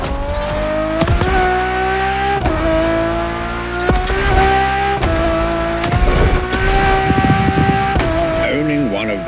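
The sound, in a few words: Ferrari Enzo driving, from video game The Crew Motorfest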